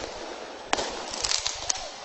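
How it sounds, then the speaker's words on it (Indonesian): Sharp bangs from police tear gas launchers and thrown firecrackers during a clash over an eviction, a few loud cracks and a quick cluster of pops over a hissing crowd background. "dentuman tembakan gas air mata dari aparat kepolisian dan Satpol PP"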